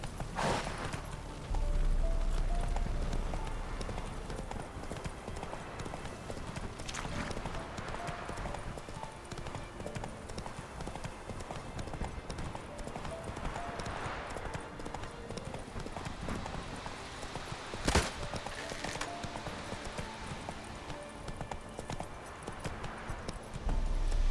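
A horse in The Witcher 3 gallops with rhythmic hoof clip-clops that run on steadily and close, with harness jingle and occasional louder thuds mixed in, and no talking.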